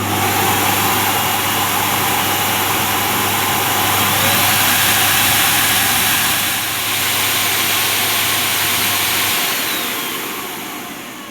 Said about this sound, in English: let's test Henry Quick corded on the standard and boost settings